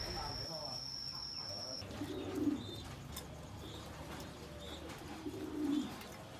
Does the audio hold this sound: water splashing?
no